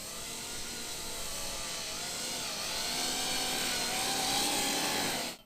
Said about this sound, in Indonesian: Ini lepas landas pada sekitar setengah throttle